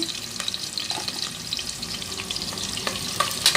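Onion frying in a pan with cinnamon stick and cloves for vegetable bath, a steady close crackling sizzle with occasional light scrapes, no talk.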